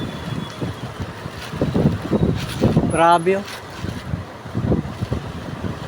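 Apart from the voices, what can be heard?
strong wind during typhoon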